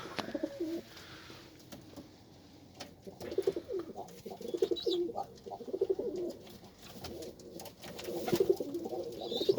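Tumbler pigeons coo softly in repeated low, throaty phrases, with wing flutters and shuffling in a loft, fairly faint and close with gaps between calls.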